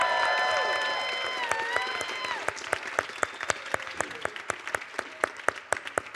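Teams at a competition results announcement cheer with whistles and whoops, then break into sustained applause with sharp individual claps standing out.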